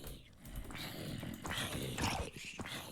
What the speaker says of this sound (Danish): Yay, jeg har fundet en hund.